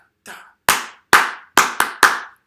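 Six sharp hand claps in an uneven call-and-response rhythm, close and loud, each snapping out with a short ring of room echo, the first one softer than the rest.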